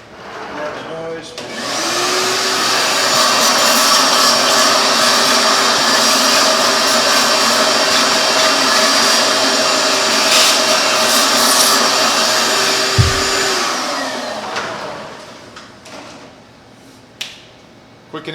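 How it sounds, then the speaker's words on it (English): A shop vacuum runs loud and steady for about twelve seconds while cleaning chips off a metal lathe, starting up and then winding down, with a couple of sharp clicks near the end. "I'm going to grab my shop vac."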